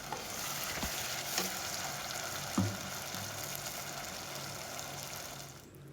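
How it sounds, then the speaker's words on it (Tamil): Onion, tomato, ginger and garlic masala sautéing in oil over a medium flame for mushroom biryani, giving a steady close sizzle and crackle with a few soft stirring knocks, and no talk. "இதையும் நல்லா எண்ணெயில் வதங்கட்டும் எண்ணெய் பிரிஞ்சு வர அளவுக்கு கொஞ்சம் நேரம் வதக்கலாம்"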